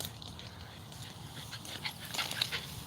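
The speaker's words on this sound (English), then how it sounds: "The dog's fucking running all over the place, man." A dog runs around close by, panting and snuffling with faint whimpers, a steady low rustle throughout with a few brief sharp spikes near the end.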